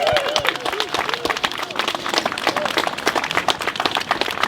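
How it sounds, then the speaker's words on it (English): A crowd at a memorial protest gathering claps and cheers steadily for several seconds, a dense wash of close and distant hand claps with scattered voices. "I would appreciate a resounding round of applause for Gloria Nkencho."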